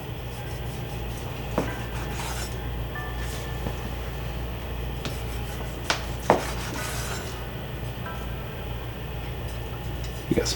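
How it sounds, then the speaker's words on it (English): A knife cuts through a pan-seared steak against the grain on a board, giving scattered faint taps and scrapes over a steady low hum and background clatter. "So a steak, you always cut against the grain."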